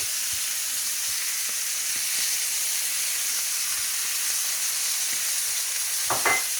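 Sliced onions and diced carrots frying in a pan as an aromatic base for pan-fried rabbit, a steady close hiss of sizzling fat with a few faint taps and a brief utensil scrape near the end.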